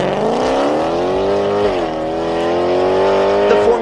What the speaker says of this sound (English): you have a quad exhaust ready to deliver a performance of a lifetime